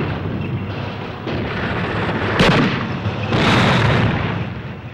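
Grenades bursting on a World War II battlefield in the 1965 film Battle of the Bulge, a sharp loud blast followed by a second heavy rumbling explosion over a dense background roar of combat.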